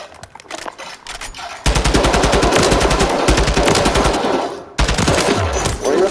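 Sustained automatic gunfire on a Call of Duty firing range, loud rapid bursts of machine gun shots that stop briefly and resume, with almost no talk.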